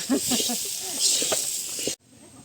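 Steady, bright sizzle of food frying in hot oil, continuous for about two seconds before cutting off abruptly, with faint voices murmuring underneath.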